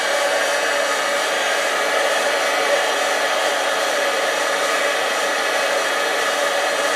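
Steady, close whooshing roar of an embossing heat tool heating faux wax embossing powder from below for a wax seal, constant in level throughout with no talking.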